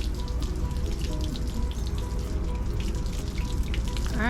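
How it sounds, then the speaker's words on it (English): Water runs steadily from a tap while someone washes their hands, a continuous close splashing and trickling with a brief squeaky tone at the end. "he's washing his hands"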